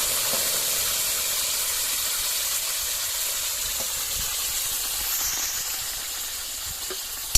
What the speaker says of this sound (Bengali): ওই কড়ার মধ্যে আমি এই আমটা ঢেলে দিলাম